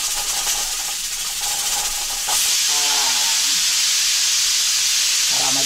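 Steady loud hiss of a pressure cooker venting steam after cooking humba, close and continuous, swelling stronger partway through with a rattling whistle-like tone riding on top.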